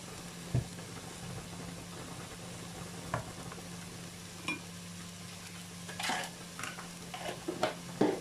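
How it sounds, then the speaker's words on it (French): Thick spaghetti stirred in a pot: faint, sparse scrapes and soft clinks of a utensil against the pot at irregular intervals, over a low steady hum. "on n'oublie pas de remuer les pâtes"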